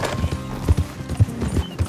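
Horse hooves clip-clop in Red Dead Redemption as the rider travels along, a close, steady rhythm of about ten distinct thuds over a low game soundscape.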